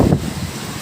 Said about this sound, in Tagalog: yung hampas ng hangin ay matindi